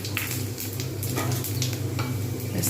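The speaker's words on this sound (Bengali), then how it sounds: "এবার আমি এই তেলের মধ্যে দিয়ে দেবো পাঁচ ফোড়ন আর শুকনো লঙ্কা" Panch phoron and dried red chillies hit hot oil with a loud, close crackle and hiss, scattered pops and spatters over a steady low hum.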